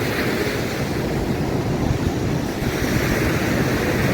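Sea waves wash against the shore in a steady, dense roar, with wind buffeting the microphone the whole time. The surf sounds near and loud, and no one speaks.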